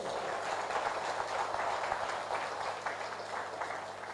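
An audience applauds for Dr. Lim Siow Jin at a DXN gathering, a dense, even wash of many hands clapping heard at some distance, fairly soft and continuous throughout.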